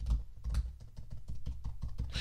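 Typing on the shallow-travel keyboard of a 2018 MacBook Air produces a quick, steady run of soft, close clicks and taps with no voices.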